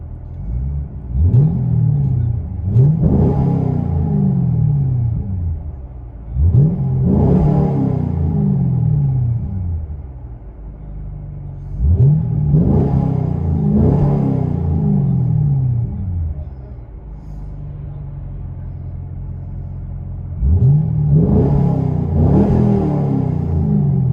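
A deep 6.2-litre V8 engine of a 2010 Chevrolet Camaro SS with Dynomax Bullet mufflers revs repeatedly from inside the car, four loud surges climbing in pitch then falling back to a rumbling idle.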